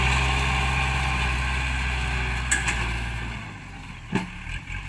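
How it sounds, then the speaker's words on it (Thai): A tractor pushes soil across a large land-filling site, its engine running as a steady, loud drone that eases off partway through, with a few brief knocks and clanks near the end. "ไล่ดินต่อแล้วครับ รถไถ ทีมงานบอกจะเอาให้เสร็จวันนี้ครับ"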